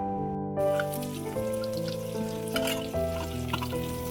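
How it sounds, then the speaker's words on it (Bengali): Carrot frying in a pan, a continuous crackling sizzle with scattered pops over a steady tonal hum, close and even throughout, without talk. "গাজরটা যেহেতু একটু শক্ত, গাজরটা দিয়ে একটু ভেজে নেব।"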